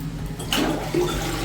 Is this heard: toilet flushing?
yes